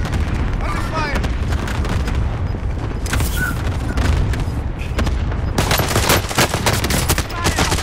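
Rapid video game gunfire bursts out in repeated volleys, loud and close, with a heavy barrage near the end, while a voice talks over parts of it.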